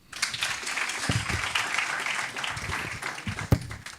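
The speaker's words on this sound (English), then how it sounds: "A round of applause." Audience at a university research day presentation applauds in a dense, moderately loud burst of clapping that holds steady for several seconds before tapering off.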